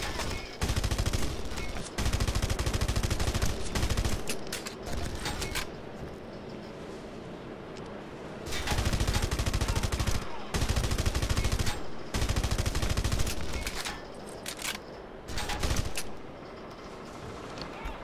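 Long, loud bursts of rapid automatic gunfire from the video game Red Faction Guerrilla, with several sustained volleys broken by short pauses and a little speech in between.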